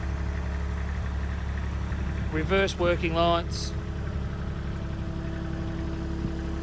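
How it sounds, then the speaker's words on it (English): A 2012 Bomag BW120AD articulated dual drum vibrating road roller with a diesel engine idles in a steady, close, low hum, while someone talks briefly over it. "diesel engine"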